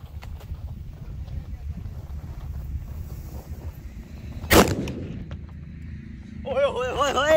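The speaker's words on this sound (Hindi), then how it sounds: "अनार बम भाई" A single sharp bang from an anar bomb Diwali firecracker cuts through a low outdoor rumble midway, followed by steady background noise and an excited voice at the end.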